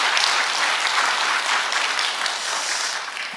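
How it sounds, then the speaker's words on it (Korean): A church congregation at an early-morning service in Gunsan breaks into dense, continuous applause, steady and full for a few seconds. "여러분 크게 박수 한번 해주세요"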